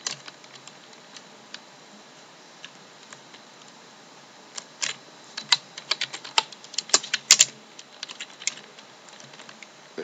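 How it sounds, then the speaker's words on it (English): A random box in the video game Minecraft making clicks: sparse, sharp ticks that grow into a busier burst of clicking in the middle of the clip, faint and without speech. "our awesome random box that makes the magical click click noise"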